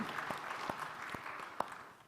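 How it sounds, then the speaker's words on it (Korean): A church congregation at a Sunday service gives faint, scattered clapping. The sharp individual claps sound sparse and quiet in a reverberant hall and trail off after about two seconds. "우리 박수 한번 격려합시다."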